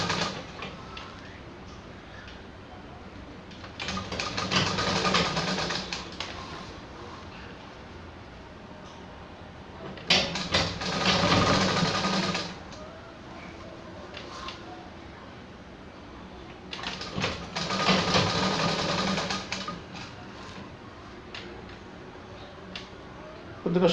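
A sewing machine stitches sleeves onto a readymade dress over its piping. Three separate runs of steady, close mechanical whirring, each a few seconds long, are separated by quieter pauses.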